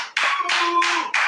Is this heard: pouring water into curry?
no